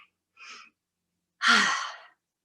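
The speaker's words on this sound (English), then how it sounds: "So take a deep breath with me." A deep human breath during a church ritual ceremony: a short soft inhale, a pause, then a longer, louder breathy exhale like a sigh, close and in otherwise silent air.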